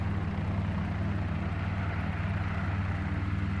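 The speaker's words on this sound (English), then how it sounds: "It really is a nice helicopter to fly around with at the moment." Helicopter flown in the X-Plane flight simulator, a steady droning rotor and engine hum with a low rhythmic thrum, continuous and even throughout with no talking.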